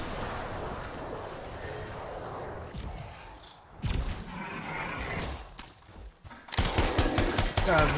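Gunfire from the video game Anthem, with rapid bursts of shots, mechanical clatter and impacts, loud and close, ending in a dense volley.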